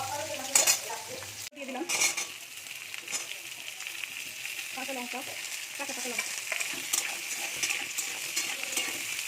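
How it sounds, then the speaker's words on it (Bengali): Raw green bananas frying in oil in a home kitchen, a steady close sizzle with stirring clatter running throughout, while someone talks over it. "কাঁচা কলাগুলো ভেজে তুলে নেব"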